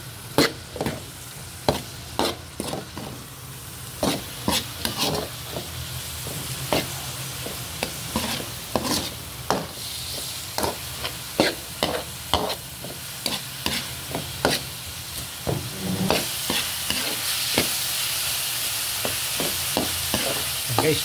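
Meat sizzles loudly in hot oil in a frying pan, a pork or beef sauté for a Filipino mixed-vegetable dish, with repeated sharp scrapes and clacks of a spatula stirring at a steady rhythm, close up and alone.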